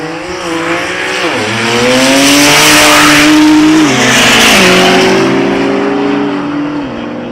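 Drag racing cars launch down a two-lane strip at the SA Drag Nationals Northerns at Midvaal, engines roaring loud and close, pitch climbing and dropping through gear shifts over a steady high-speed howl.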